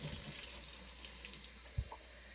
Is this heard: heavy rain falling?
no